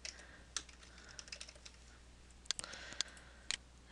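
Computer keyboard typing code, quiet scattered keystrokes with a few sharper clicks near the end, close up in an otherwise silent room.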